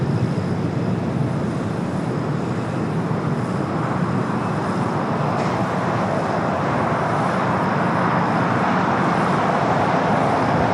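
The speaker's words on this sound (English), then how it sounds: "got the A380 heading to the north side" An Airbus A380 airliner at LAX gives a steady, broad jet roar heading toward the north side, loud and continuous throughout with no talk.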